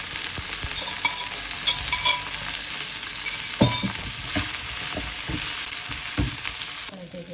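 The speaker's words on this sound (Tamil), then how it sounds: "அதையும் போட்டு வதக்குவோம்" Crushed onion and spices sautéing in oil for tomato rasam, a steady close sizzle broken by repeated scraping stirs of a ladle against the pan, with no voices.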